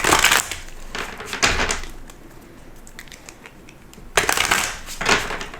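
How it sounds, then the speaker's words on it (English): Rapid papery riffling and flicking of cards, in several bursts with quieter shuffling between, close by and without talking. "I keep getting all of the same cards, so I need to shuffle"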